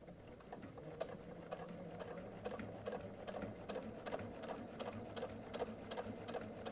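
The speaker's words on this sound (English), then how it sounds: "I'm just gonna sew over it again" A sewing machine stitches a quilt along the ditch, a soft, steady rapid patter of needle strokes running continuously at low volume, close by with no voices.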